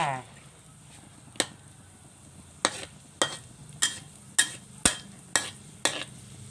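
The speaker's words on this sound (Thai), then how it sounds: "ผัดซีอิ๊ว แล้วก็มีนี่ เส้นใหญ่คุกซีอิ๊วไว้แล้วค่ะ" Pad see ew being stir-fried in a hot wok, wide rice noodles with soy sauce, kale, pork and egg: a low sizzle under regular sharp clanks of a spatula striking the pan, about one per half second.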